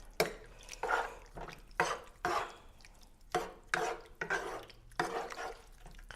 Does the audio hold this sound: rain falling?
no